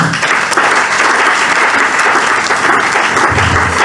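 A church congregation bursts into sustained applause, loud and dense clapping filling the space steadily from start to finish with no voices above it.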